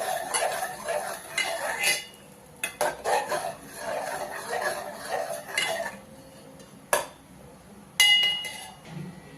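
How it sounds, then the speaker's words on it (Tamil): Rice being stirred in a pot with a metal spoon, giving repeated scraping strokes and sharp clinks against the rim in uneven bursts, close and moderately loud with pauses between. "நல்லா கிண்டி விட்டுக்கலாம்"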